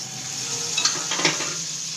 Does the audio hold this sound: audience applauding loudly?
no